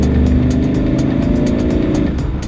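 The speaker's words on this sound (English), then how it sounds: "just a freeway cruiser that sounds angry but low and slow" A 1951 Chevy pickup truck with a low, angry engine rumbles loudly and close, its throaty exhaust pulsing in a steady rev with no voices over it.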